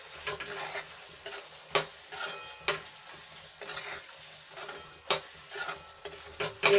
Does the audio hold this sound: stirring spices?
yes